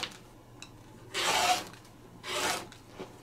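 Two separate rasping bursts of fabric being trimmed along a 1/4 inch seam allowance for an embroidered treat bag, close and fairly quiet, each lasting about half a second over a soft background.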